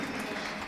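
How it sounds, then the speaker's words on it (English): Audience applause for a speaker at a conference on data security and event technology, a steady, even wash of clapping throughout the short moment. "A big round of applause for Thomas Waetke"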